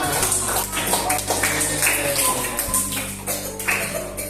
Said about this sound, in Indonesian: Tepuk tangan kita semuanya